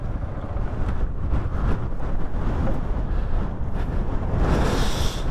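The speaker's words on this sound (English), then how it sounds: "I think it's that windy up here, it's likely to fall over." Strong wind buffets the microphone at a hilltop summit in the Yorkshire Dales during green laning on a Husqvarna 701 motorcycle, a loud, constant roaring rush with no pauses.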